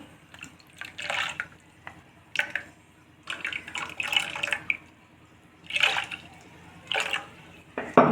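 Water being poured into a pot of rice for payasam: intermittent close splashes and trickles in separate bursts, with quiet pauses between them.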